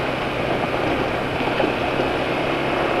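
An automatic motorbike engine runs on freshly changed oil during a ride, a constant smooth drone blended with rushing road and wind noise, loud and unbroken throughout.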